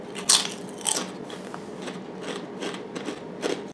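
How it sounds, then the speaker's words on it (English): Crunchy Covered Bridge sour cream and onion potato chips are bitten and chewed up close. A couple of sharp crisp bites come first, followed by quieter, irregular crunching, with no talking. "Nice, crisp chip. Not overly salty. Just has a nice crunch."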